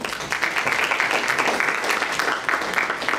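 A crowd applauds steadily with a dense wash of clapping that holds at an even level for the whole stretch.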